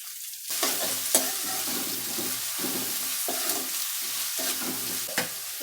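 Onion, garlic, ginger and curry leaves frying in a pan for egg rice, a steady sizzle with repeated scraping stirs and occasional clinks of the spoon, close and fairly loud with no talking.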